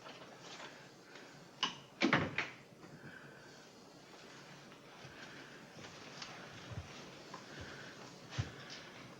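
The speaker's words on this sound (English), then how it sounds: "Close the door, Sigrod." A door is shut inside a quiet room: a cluster of sharp knocks and a thud near the start, then only faint, scattered small noises. The whole scene is soft and fairly distant.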